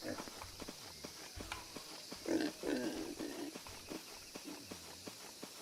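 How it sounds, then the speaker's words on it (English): Pigs grunting in a video game set on a commune farm, with quiet snorts and grunts mixed with soft footstep-like thuds over a faint background hum. "Dinner time, little piggies."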